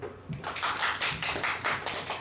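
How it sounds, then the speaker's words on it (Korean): A church congregation at a Korean worship service applauding, giving a short, fairly close patter of many hands clapping, steady and moderately loud. "다들 박수."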